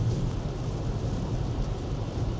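Steady rain drums on a car while driving on Long Island, New York, in a constant low roar, with no voices.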